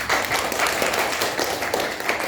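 A classroom of students claps for a classmate's presentation, a steady, moderately loud patter of many hands at close range that keeps an even level throughout.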